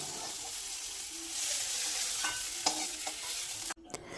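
Eggplant pieces fry in oil in a steady close sizzle with a few stirring clicks and scrapes, briefly dropping out near the end before resuming.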